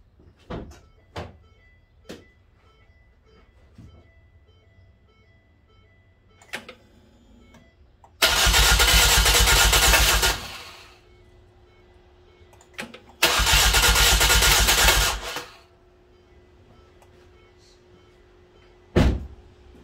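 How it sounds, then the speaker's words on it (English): A car engine cranks and fires in two long, loud bursts a few seconds apart during a fuel pressure test, with scattered clicks and knocks around them and a short sharp burst at the end. "what I'm going to do is crank up the car and see what happens"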